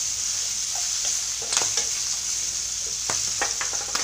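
Green peas sautéing in hot oil in a pan give off a steady, close sizzle, with a few scraping stirs of a spoon over the crackle and no talking.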